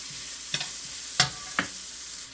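Onions and ginger sauté in a pan for adobong sitaw, a steady frying sizzle broken by three sharp utensil scrapes against the pan, close and fairly loud.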